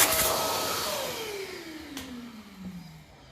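Compressed air blowing dirt out of a part on a 1954 Ferguson 20 TEF diesel tractor, a loud airy hiss with a falling whine that gradually fades, plus a brief sharp burst near the end.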